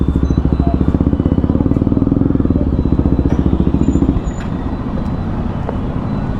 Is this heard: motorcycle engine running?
yes